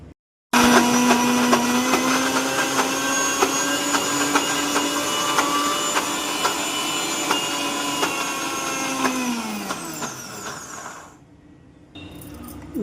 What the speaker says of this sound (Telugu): మళ్ళీ ఇంకొకసారి మిక్సీ పట్టేయండి